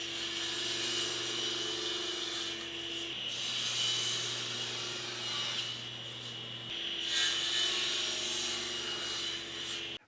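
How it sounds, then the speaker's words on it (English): A saw cuts cherry wood bed rails to length in a woodworking shop. It gives a steady rasping and whining sound, close and loud, running throughout with a short change in tone partway through and no talk. "Now I'm going to square one end, flip the board around, and cut them all to their final length."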